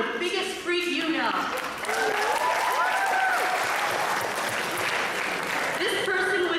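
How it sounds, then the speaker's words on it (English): Applause from the audience at a 2014 poetry slam performance, continuous clapping with cheering voices rising over it throughout. "If I'm crazy, then give me a round of applause"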